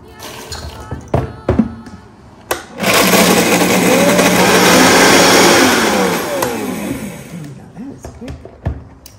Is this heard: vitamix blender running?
yes